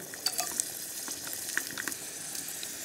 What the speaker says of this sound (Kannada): ಸಾಸಿವೆ ಎಲ್ಲ ಸಿಡಿ ಇತ್ತು